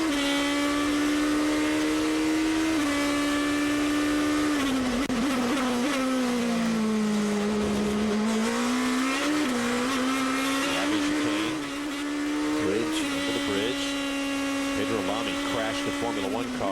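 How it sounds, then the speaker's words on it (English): A GP2 race car at full speed onboard at Silverstone, Great Britain, its engine a loud, sustained high whine that dips through a corner and climbs again, with commentary over it. "On board now, Lewis Hamilton"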